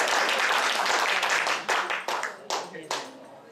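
Church audience clapping during a sermon service, a dense burst of applause that thins out into a few separate claps near the end, with some voices mixed in.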